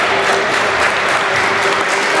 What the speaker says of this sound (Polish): Duże brawa dla Was za udział w zawodach i za super emocje.